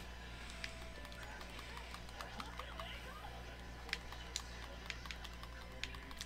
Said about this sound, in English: he's on his horse.